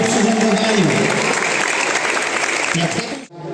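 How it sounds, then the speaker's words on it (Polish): A crowd claps loudly and continuously for a few seconds at the start of a stair-climbing race in an office building, while a voice talks over it, fading toward the end. "Wielkie brawa, żeby usłyszał te klaski"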